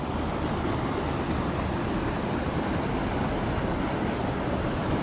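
Fast water rushing near a waterfall on a trout stream, a dense, steady roar of churning current close by with constant broadband wash and no breaks for the full length.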